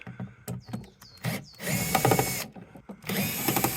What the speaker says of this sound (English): To undo the Torx screws you need a T20 Torx bit.